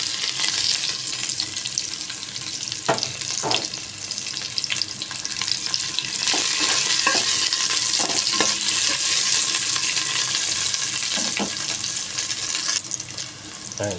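Onion sizzling and frying in a pan while zucchini, lady finger and salmon are sautéed, a steady loud hiss throughout with occasional stirring clatter and tap-like clicks.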